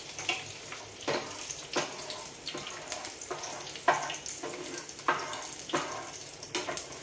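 Sliced ivy gourd and curry leaves fry in hot oil, giving a steady close crackling sizzle with repeated sharp pops and spurts every second or so.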